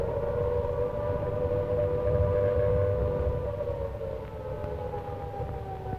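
An air raid siren wails over wartime London during the nightly siege, a steady droning tone that slowly bends downward, loud and continuous, with a low rumble beneath and no voices.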